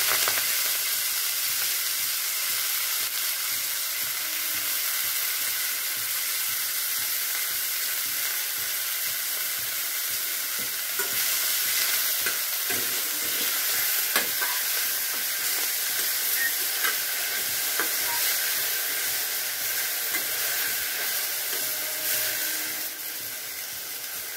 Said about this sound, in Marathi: जिरे तडतडले तर ह्याच्यात मी भाजी घालते।